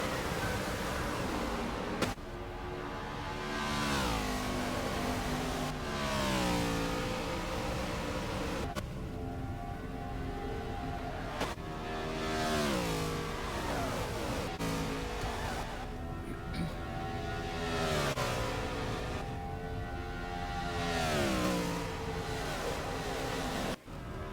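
NASCAR race cars accelerating at Homestead Miami Speedway in a Championship 4 race, loud rising and falling engine roars with repeated sweeping passes over about 24 seconds, no talk.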